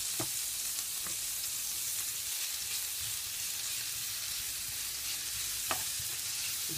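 Garlic fries in a pan for scampi, a quiet, even hiss of oil with a few faint taps of a utensil, close by and without any talk.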